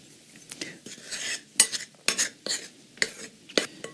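A utensil stirs salt, garlic powder and nutritional yeast into a mix in a bowl, giving a series of close, sharp clinks and scrapes at an uneven rhythm with soft rustling between them.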